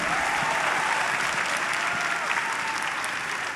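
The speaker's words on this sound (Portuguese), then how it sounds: "mulheres, me aplaudam" Audience applause fills a Brazilian business talk event, a dense, steady clapping from a crowd that holds at an even level for several seconds with no talk over it.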